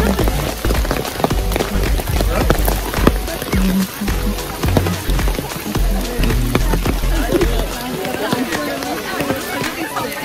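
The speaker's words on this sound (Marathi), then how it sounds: "आणि जाम जोरात पाऊस पडतोय आता." Heavy monsoon rain pours down at the Matheran hill station, a dense hiss of drops under nearly continuous loud talking, with scattered sharp taps from drops striking nearby surfaces.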